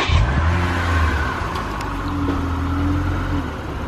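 Car fitted with Volk wheels and beefy tires pulling away on a test drive, a steady engine drone with a low rumble and a rising rev, close by and alone without voices.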